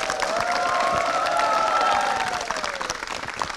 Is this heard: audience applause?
yes